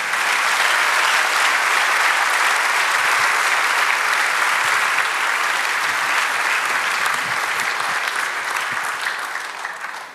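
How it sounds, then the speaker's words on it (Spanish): A church congregation applauds together in a dense, steady wave of clapping that holds loud and even for about ten seconds, then tapers slightly at the end. "Denle otro aplauso al Señor."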